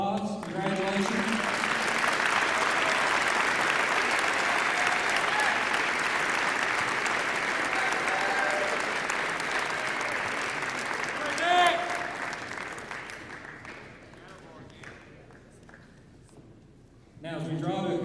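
Sustained applause from an audience at a high school signing day for letters of intent, filling most of the stretch before tapering off, with a brief voice near the end.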